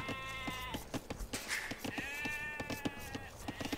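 Sheep bleat in the video game Age of Empires 2, several wavering calls under a layer of repeated clicks and small game sound effects.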